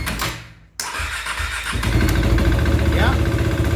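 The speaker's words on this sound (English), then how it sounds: "Start please." A KTM RC 390 motorcycle engine, just after a battery replacement, cranks and catches after a brief silence, then settles into a loud, steady running rumble close by.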